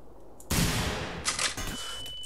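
Grenade explosions and gunfire in the video game The Hidden, with a loud blast bursting in at about half a second and a second sharp impact after, dense and close with no talking.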